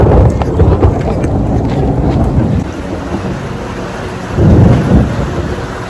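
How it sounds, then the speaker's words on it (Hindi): Heavy rain pours down outdoors at Saputara during a thunderstorm, with low rumbling bursts of thunder swelling near the start and again toward the end, wind buffeting the microphone throughout. "बहुत जोर से बारिश हो रही है"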